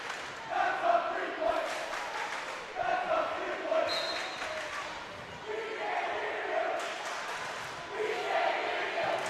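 Crowd noise at a high school volleyball match between Perham and Frazee, with loud cheering and chanting voices rolling through the gym in repeated swells across the whole stretch.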